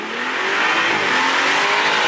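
A 2015 BMW M235i accelerates hard past a roadside listener, its engine note loud and continuous as it revs through the gears, with a rising, rasping exhaust tone and no voices over it.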